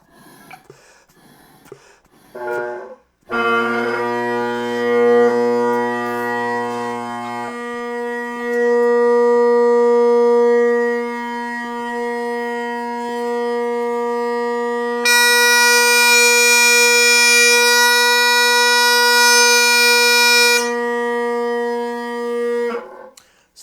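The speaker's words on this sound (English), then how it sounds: "So you can hear that is not quite in tune, right?" Drones sounding slightly out of tune: a preceding breath, then layered sustained tones with a low hum that drops out, later joined by a brighter high layer, steady and continuous for about twenty seconds.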